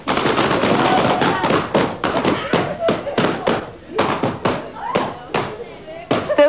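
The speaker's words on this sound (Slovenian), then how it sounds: "zato kar začnite s pokanjem balonom" A studio audience pops balloons in a rapid, irregular burst of sharp bangs that crowd together at first and then thin to scattered pops, with voices mixed in.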